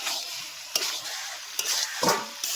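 Chicken skin and legs stir-fry in a pan, a continuous close sizzle punctuated by four sharp scraping strokes of a spatula against the pan.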